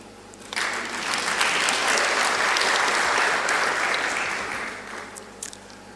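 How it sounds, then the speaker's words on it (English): A conference audience bursts into steady applause that swells quickly, holds for several seconds, then tapers off, with no talk over it. "If you want to clap, actually clap."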